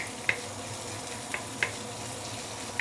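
Sichuan peppercorns sauté in a pan for pickled vegetable fish soup, giving a faint, steady sizzle broken by a few sharp, isolated pops.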